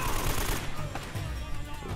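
Machine gun fire in the video game Uncharted: Drake's Fortune, dense and continuous, then dropping back to a steady, busy din of rapid gunfire and in-game noise for about two seconds.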